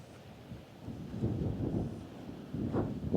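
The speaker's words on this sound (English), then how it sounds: "Pretty windy today as well." Gusty wind buffets the microphone outdoors at a seaside pier in Safety Harbor, a low rumbling roar that swells and eases, with no voices.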